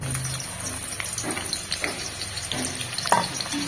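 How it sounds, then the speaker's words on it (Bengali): Sliced onions frying in hot oil for crisp birista, a steady close sizzle and crackle with a few light utensil clinks and stirring movements, no voices. "এবার আমি তেল গরম করতে দিয়ে এই যে পেঁয়াজ এটা ভেজে বেরেস্তা বানিয়ে নেব"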